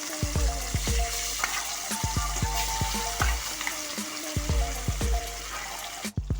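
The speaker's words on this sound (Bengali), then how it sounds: "মাছ ভাজার জন্য কড়াই আমি তেল চাপিয়ে দিয়েছিলাম, এবার তেল হয়ে গেছে, এবার মাছগুলোকে এক একটা দিয়ে দেবো।" Pieces of fish drop into hot mustard-oil in a kadai, a steady loud sizzle and crackle with sharp popping spatters and a few clatters, no talk.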